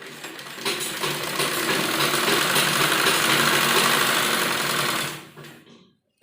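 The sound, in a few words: sewing machine stitching fabric for baby frock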